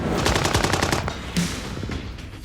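Rapid machine-gun fire crackles around a naval drone charging at a Black Sea Fleet reconnaissance warship, a fast burst of shots in the first second followed by scattered louder reports, loud and close throughout.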